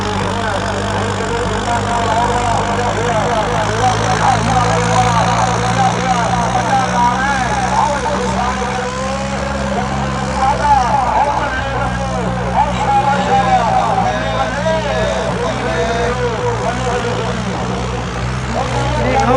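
A heavy tractor engine idles with a steady low rumble throughout at a tractor trolley-pulling contest, while several people talk loudly over it nearby.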